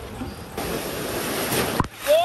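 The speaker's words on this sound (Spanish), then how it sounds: "se vienen las olas, chicos" Wave pool at the Isla Blanca water park, where a wash of splashing water surges in and holds steady, fairly close, with voices of people in the pool over it.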